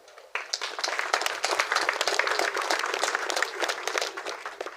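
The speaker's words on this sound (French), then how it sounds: "au nom de Papa Joseph, je demande d'applaudir pour le Seigneur." A church congregation breaks into steady, sustained applause that starts abruptly and continues dense and loud throughout.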